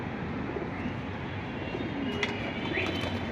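Pigeons at a bird seller's place give soft, low cooing against a steady murmur of background noise, with a couple of brief sharper sounds late on.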